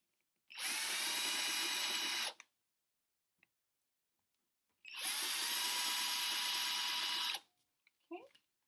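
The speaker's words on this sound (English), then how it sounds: "Okay, I'm going to try this one more time with my drill." A power drill whines loudly through hardwood in two bursts of about two seconds each, separated by near silence and a few faint clicks.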